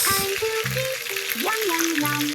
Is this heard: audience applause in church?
no